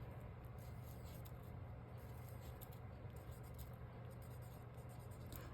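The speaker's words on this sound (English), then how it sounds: "So let's write the themes down" Themes being written by hand on paper for a summer artist trading card exchange, a faint continuous scratching and rubbing of the pen, quiet and close with no speech.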